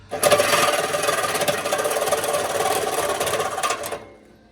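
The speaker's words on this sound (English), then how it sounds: "using my Sawzall, I'm going to go ahead and cut through there" A Sawzall reciprocating saw cuts through the exhaust pipe of a Chevy Equinox, a loud continuous buzzing rasp with a fast, even stroke rhythm that runs steadily for about four seconds, then stops.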